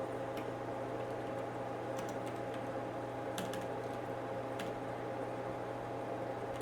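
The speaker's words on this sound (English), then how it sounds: "I'm having a really hard time typing." Sparse, quiet key clicks sound from a computer keyboard at a vintage Altair computer setup with floppy disks, faint against a steady machine hum.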